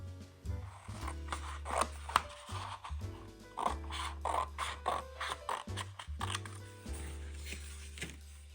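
Scissors cutting card paper for a simple handmade flower card, close up: a series of short snipping and rustling strokes, irregular and fairly quiet, with soft paper handling between cuts and no talking.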